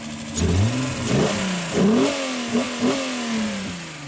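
A Volkswagen Corrado VR6 engine runs after a hard start, blipped through several quick revs that rise and fall over a steady idle, close by with no talking.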